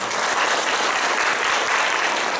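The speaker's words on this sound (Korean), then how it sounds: "다시 한번 큰 박수 부탁드리겠습니다" Sustained audience applause closing a panel discussion on barrier-free travel, dense and steady clapping throughout with no talk over it.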